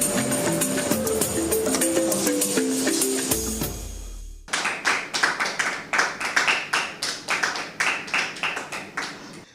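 Rhythmic clapping from a crowd, loud and steady, starting over music and then carrying on alone in regular bursts of hand claps.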